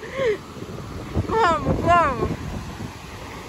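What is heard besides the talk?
wind blowing on a beach, wind noise on microphone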